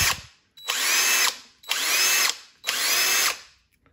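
Dewalt impact driver on a standard battery, variable-speed trigger, runs in three separate bursts of roughly three-quarters of a second each with brief pauses between, a close, loud, whining motor sound.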